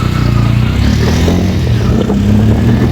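A motorcycle ridden toward a small riverbank on a rainy day, its engine droning steadily and loudly with wind rush and rattling throughout.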